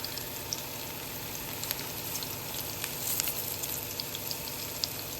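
Onions, green chilies and ginger sizzle steadily in hot oil in a pan, a continuous close frying crackle with faint scrapes of stirring and no talk.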